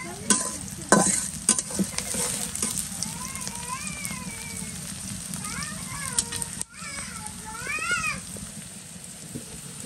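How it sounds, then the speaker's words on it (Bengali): Onions fry in a pan with a continuous close sizzle and stirring scrapes, while a cat meows several times in the middle and toward the end. "এটা কিন্তু অনেকটা ভাজা ভাজা হয়ে আসছে"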